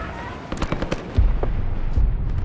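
Rapid automatic gunfire crackles in a burst from the Call of Duty: Black Ops 6 campaign, followed by heavy booming impacts and a rumbling low roar, loud and continuous with no speech.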